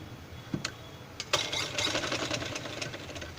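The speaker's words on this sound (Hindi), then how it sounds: "फोल्ड करके इसी के ऊपर हम सिलाई लगाएंगे।" A sewing machine stitching along a fold of a small child's frock: a couple of faint clicks, then the motor starts and runs in a close, uneven whir.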